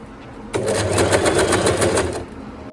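A sewing machine stitches a baby frock in one steady, fast burst of needle chatter lasting about a second and a half, loud and close, beginning abruptly and stopping cleanly.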